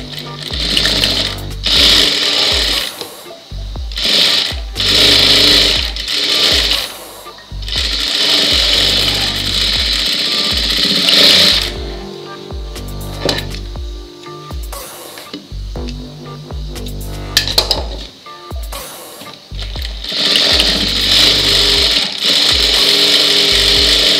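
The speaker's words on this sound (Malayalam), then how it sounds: "നമുക്കിത് മൂന്ന് സ്റ്റിച്ച് ഇടാം." A sewing machine stitching a blouse, running loud and close in long whirring bursts broken by short pauses, with a steady mechanical chatter throughout.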